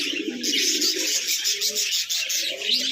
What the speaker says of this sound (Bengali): বিভিন্ন ধরনের পাখি আছে এখানে